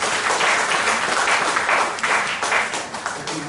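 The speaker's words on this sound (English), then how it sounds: "we have to give another clap to Dr. Sitaram" An audience at a science forum in Bangalore applauds a speaker with dense, sustained clapping that stays loud and even throughout.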